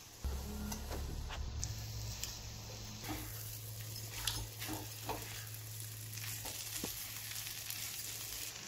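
Cooked toor dal tipped into a pan of hot sizzling spices, a steady fry crackle with a few stirring clinks and scrapes, low hum underneath, no talking.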